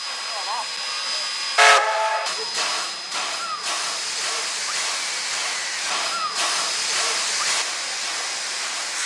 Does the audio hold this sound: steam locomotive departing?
yes